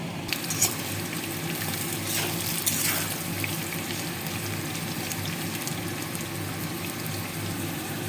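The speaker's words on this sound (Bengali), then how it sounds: "জিরে ফোড়ন দিয়ে আলুগুলোকে আমি ভেজে নিচ্ছি।" Potatoes frying in hot oil with cumin seeds for an olkopi dom curry give a steady, continuous sizzle with light stirring scrapes, heard alone without speech.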